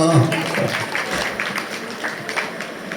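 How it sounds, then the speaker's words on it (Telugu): Guests at a Christian wedding ceremony in a function hall give a brief burst of applause, with a speaking voice over the moderate clapping. "చప్పట్లు కొట్టండి గట్టిగా"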